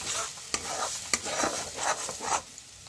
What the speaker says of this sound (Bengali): কালো জিরে দিয়ে পুরটাকে দিয়ে ভালো করে একটু নেড়ে নেবো, যাতে কড়াতে লেগে না যায়